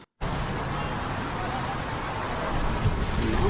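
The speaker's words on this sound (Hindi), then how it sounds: "इसकी शुरुआत भी बारिश से ही हुई" Artificial rain in the opening scene of the TV drama Dr Bahu, a steady broadband hiss of falling water that starts abruptly after a brief silence and swells slightly toward the end.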